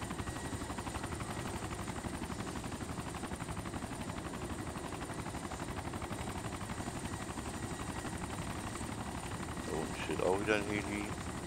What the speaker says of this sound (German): Auch wieder ein Heli.